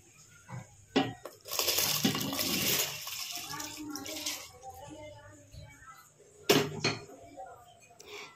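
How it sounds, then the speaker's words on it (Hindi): Soaked rice is poured into a pot of cooked chicken and water for Arabian kabsa, then stirred. Splashes, scrapes and clinks of a utensil against the pot come in uneven bursts at close range. "तो हम इसमें अपने सोक किए हुए चावल ऐड कर लेंगे। अच्छे से मिक्स कर लें।"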